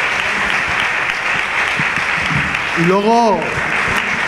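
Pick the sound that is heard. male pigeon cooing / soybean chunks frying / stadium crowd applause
stadium crowd applause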